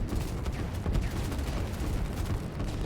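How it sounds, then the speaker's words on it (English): Artillery fire in the strategy game Line War, with three guns shelling at once. Dense, continuous rumbling booms pile up into a steady wash of blasts at moderate distance. "There's 3 artillery shooting at him at the same time"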